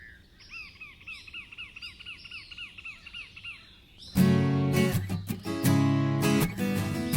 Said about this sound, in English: Birds in the trees sing so sweetly.